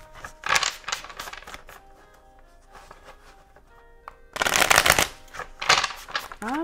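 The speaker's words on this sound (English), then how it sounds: "Two more shuffles, please, and thank you." Bursts of riffling tarot card shuffles, two main rounds with crisp fluttering clatter, close up, separated by quieter handling sounds.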